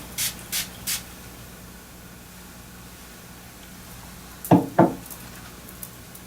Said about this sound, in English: she's calling for some body wisdom spray